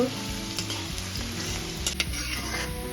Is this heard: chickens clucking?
no